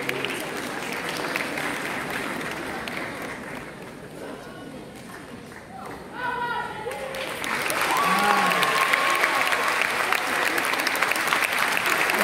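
Applause from an audience at an award presentation for Commandant Seynabou Diouf, clapping that dips midway under a voice, then swells louder and denser toward the end.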